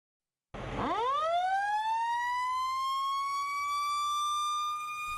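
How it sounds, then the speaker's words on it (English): A volunteer fire company's siren winds up from silence, then holds a loud, steady wail close by with no voices over it. "That siren means it's go time for the Orange Volunteer Fire Company."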